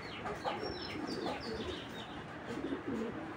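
A pigeon coos in low, soft phrases amid a faint background of other birds and a steady noisy hiss, the calls fairly distant and quiet.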